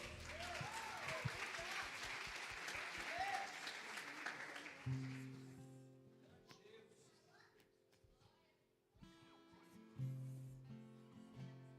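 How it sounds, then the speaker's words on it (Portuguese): A church congregation applauding during a Pentecostal-style service, a burst of clapping for the first five seconds that fades, followed by sustained organ or keyboard chords with voices talking over them. "Você pode aplaudir Jesus?"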